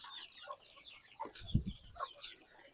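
Country chickens on a native poultry farm cluck in short, scattered bursts at feeding time, fairly close and quiet, with a brief low thump in the middle and no voices.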